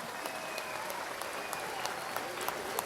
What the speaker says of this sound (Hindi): लेट्स टेक एक जोरदार तालियां अजय सर के लिए